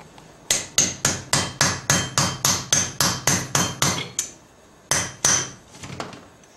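A hammer drives wooden wedges into a vacuum pump from a 1996–2002 Dodge diesel, a steady run of about a dozen sharp, close knocks, a short pause, then a few more blows.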